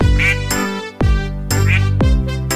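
A duck quacks loudly and close, four harsh nasal quacks in a steady rhythm with short gaps between them.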